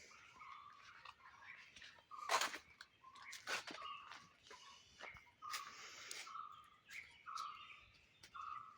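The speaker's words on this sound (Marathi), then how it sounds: "विविध पक्षी ह्या वनात आहेत त्यांचे वेगवेगळे आवाज मनमुग्ध करतात" Several wild birds chirp and call in a forest around a remote temple, bright tweets and short calls overlapping at varying distances, with a few louder sharp calls standing out and no talking.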